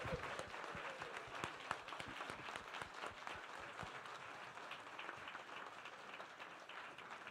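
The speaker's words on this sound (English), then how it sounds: "let's give him another round of applause" Steady applause from a crowd, many hands clapping together in a continuous wash, heard from some distance and fairly soft throughout.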